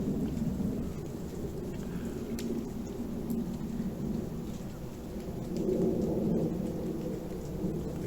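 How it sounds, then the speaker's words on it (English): Rainwater drips off trees in the woods after a heavy downpour, scattered faint clicks and taps over a low, rumbling outdoor background that swells slightly, with no talking. "I think most of the clicks and that is rainwater. Yeah, just coming off the trees."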